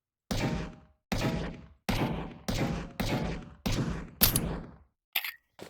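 A .50 caliber gun firing in a video game: seven heavy, booming shots spaced roughly evenly about a second apart, each with a long decaying tail, followed by brief mechanical clicks at the end.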